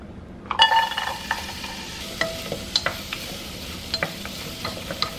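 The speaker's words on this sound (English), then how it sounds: "I've stir-fried the onions, I add the meat, stir-fried that." Onions and meat stir-fry in a pan, a continuous soft sizzle with scattered light scrapes and clinks of a utensil stirring against the pan, close and fairly quiet, with no voices.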